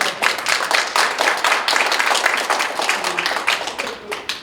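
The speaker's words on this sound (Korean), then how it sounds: "좋으면 박수 치십시오" A lecture audience claps steadily and fairly loudly for several seconds, a dense wash of many hands with no voices over it.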